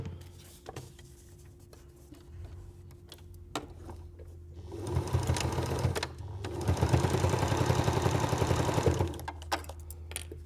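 A sewing machine stitches a narrow seam on a reusable sandwich bag, running in two quick bursts of rapid, even needle chatter, close up, after a few quiet handling clicks.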